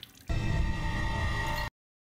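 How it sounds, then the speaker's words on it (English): Water gushes from a sink faucet in House Beneviento in the game Resident Evil Village, a steady rushing stream that starts abruptly, holds evenly for over a second, then cuts off sharply into silence. "we're going to turn on the faucet and then use the ring, which is going to clean off the ring"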